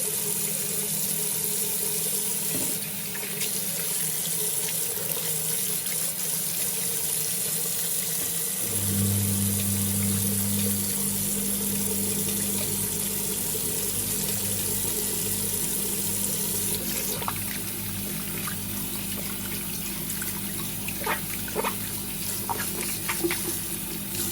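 Warm tap water runs steadily into a sink while makeup brushes are washed, a continuous rushing flow with a low pump-like hum joining partway through and small splashes and clinks near the end.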